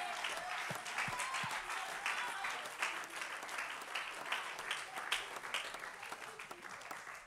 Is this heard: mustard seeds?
no